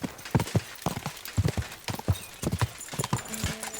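Horse hooves clip-clop in a steady, close, rhythmic trot in Kingdom Come: Deliverance II, the medieval role-playing game, with faint tonal game sounds underneath.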